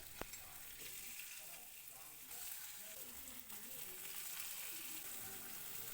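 Sardines frying in hot oil with curry leaves added, giving a steady, fairly quiet sizzle with occasional soft crackles throughout, no talking.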